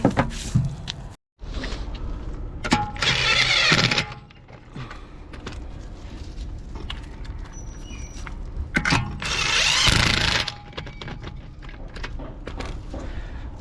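A power tool tightens the wheel bolts on a BMW E46 320ci coupe in two short whirring bursts a few seconds apart, with quieter clinks and handling noises between them.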